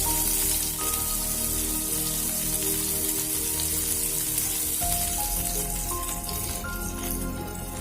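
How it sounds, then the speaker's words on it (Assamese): Onions frying in hot oil in a pan give a steady, dense sizzle and crackle that carries on unbroken, with faint background music underneath and no voices. "তেলখিনি গৰম হোৱাত ইয়াত দিছোঁ পিঁয়াজখিনি"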